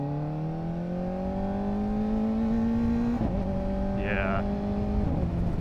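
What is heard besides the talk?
Kawasaki ZX-4RR motorcycle with Yoshimura AT-2 exhaust, upshifting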